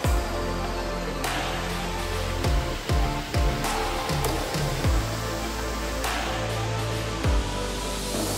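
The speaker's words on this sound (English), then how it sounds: "There are 2 waterfalls inside the mall." Water from an indoor waterfall inside a Dubai shopping mall splashes in a steady, loud rush, with repeated low thuds and bursts of spray cutting through the continuous noise.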